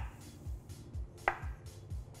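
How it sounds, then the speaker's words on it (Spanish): A knife chops mushrooms into quarters on a cutting board, giving a soft, evenly spaced series of dull thuds with one brighter click midway, close and quiet, no voices. "Vamos a cortarlos en cuartos"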